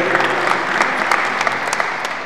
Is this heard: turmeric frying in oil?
no